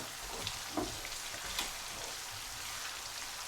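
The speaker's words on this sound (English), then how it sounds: "I can smell garlic and ginger getting nicely fried" Garlic and ginger fry in hot oil for a beef pasanda, a soft, steady sizzle with faint stirring clicks, quiet and continuous with no one talking.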